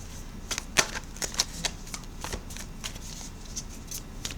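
Tarot cards being handled and shuffled, a string of soft papery riffles and flicks at an irregular pace, fairly quiet and close, with no talking.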